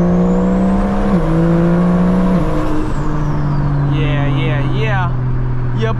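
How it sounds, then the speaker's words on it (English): Modified big-turbo BMW 335i engine droning loud and close, its pitch stepping up through gears, with a fluttering turbo chatter on lift-off near the end. "That turbo flutter is really crazy."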